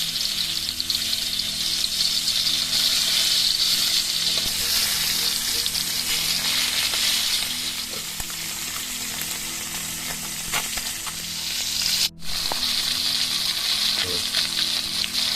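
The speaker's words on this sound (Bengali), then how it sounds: "মাছটা প্রায় ভাজা হয়ে গেছে" Hot oil sizzles and spits steadily as koi fish (climbing perch) fries, loud and close, with a low background hum and a brief dip near the end.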